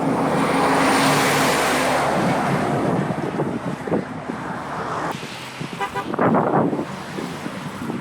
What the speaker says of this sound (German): LKW.